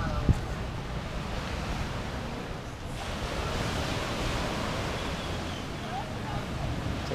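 Steady wash of ocean surf at the shoreline, a broad continuous roar with wind buffeting the microphone.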